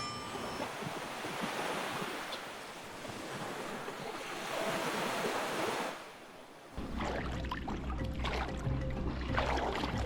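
Ocean surf rolling onto the shore at Mombasa, Kenya, a loud, steady wash of breaking waves mixed with gusty wind buffeting the microphone, briefly dipping before surging back.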